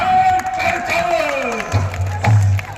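An audience at an outdoor Ramlila performance in Delhi, during the Sita haran episode, bursts into cheering and scattered clapping, with a voice calling out over the crowd noise and a low rumble near the end.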